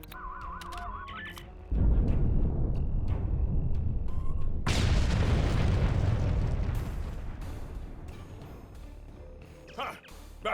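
A large explosion in Star Trek Online, a heavy boom that erupts into a long, loud rumbling roar and slowly fades, with speech heard before and after.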